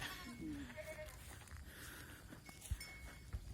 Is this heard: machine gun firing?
no